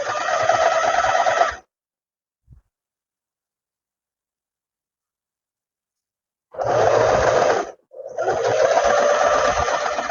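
A sewing machine runs a straight seam on trousers in two steady stretches, whirring briefly, falling silent for several seconds, then starting again with a short pause before running on.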